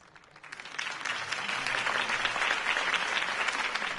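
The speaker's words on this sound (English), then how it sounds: "If only Mr. Wayne, my campaign's largest backer, could have heard that applause" Crowd applause swells after a campaign speech in a Batman video game, beginning quietly and building within half a second into a dense, sustained clapping that holds steady and loud to the end.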